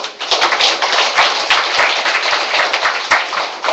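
Audience applause at a neighborhood New Year greeting gathering in Jongno, Seoul, with residents clapping steadily and densely throughout, loud and close, with sharp individual claps standing out.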